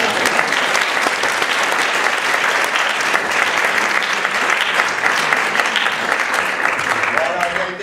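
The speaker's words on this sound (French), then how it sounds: "On peut l'applaudir." A theatre audience applauds a performer after a scene from a stage production of Antigone, with loud continuous clapping filling the hall from start to finish.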